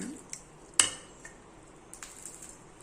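A spoon stirs food in a metal pot for an Indian festival dish, giving one sharp clang of metal on metal followed by scattered lighter clinks and scrapes, close and mostly quiet, with no speech.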